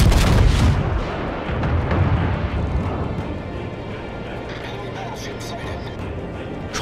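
Naval ship guns fire in a video game with a heavy, loud boom at the start, then a long rumbling decay and battle noise, with voices nearby.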